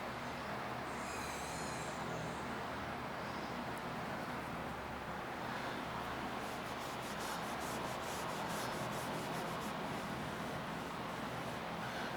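Close, steady rubbing as the leather dash of a Porsche 991 GT3 interior is scrubbed with a brush, a soft continuous swishing with faint scratchy strokes and no talking.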